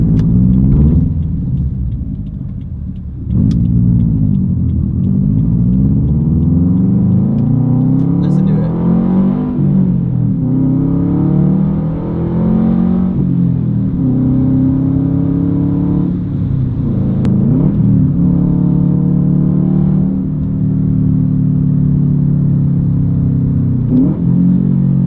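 A 2015 Subaru WRX STI with its EJ boxer engine, cat-back exhaust and stock downpipe revs loudly and continuously, rising and falling in pitch with deep rumble throughout, with someone talking over it.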